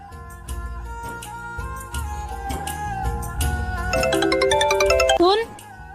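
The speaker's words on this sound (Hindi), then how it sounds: "ये तेरा फोन बज रहा है" A mobile phone ringtone plays a chiming melody in a home, a repeating tune that grows louder and then cuts off abruptly, heard under dramatic music.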